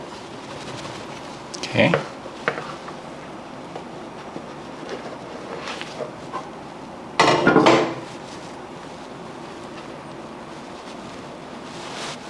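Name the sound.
shaking banana bread pan to loosen the loaf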